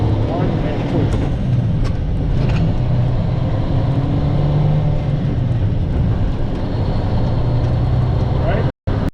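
A truck engine drones steadily and loudly inside the cab as a driving student works through gear shifts, with talk running over it throughout.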